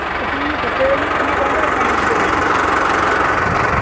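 An Arjun 555 tractor set up for deep ploughing with a mouldboard plough idles with a steady, loud, low engine drone that holds constant, with voices audible alongside.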